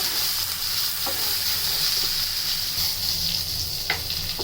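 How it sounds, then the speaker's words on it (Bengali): Chopped onions fry in hot mustard oil for a potato and country chicken curry, a steady close sizzle with occasional light stirring taps and no voices. "তেল গরম হয়ে এলে এতে আমরা দিয়ে দিলাম পেঁয়াজ কুচিগুলো"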